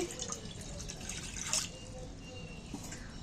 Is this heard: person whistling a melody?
no